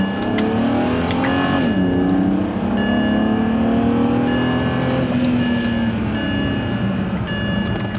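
A BMW E92 335i with a misfire fault pulls away on a test drive, its engine note droning steadily and rising in pitch through the gears, loud and close from inside the car.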